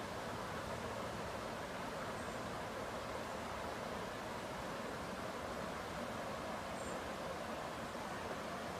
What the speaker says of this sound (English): and the water splashing against the rocks.